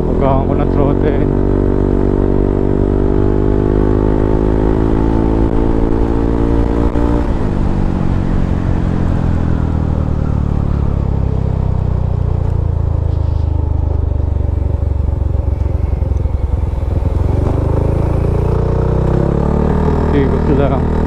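A scooter motorcycle engine hums steadily and loudly up close, its pitch climbing and dipping as the throttle is worked, with a rising rev near the end and continuous wind-like roar throughout.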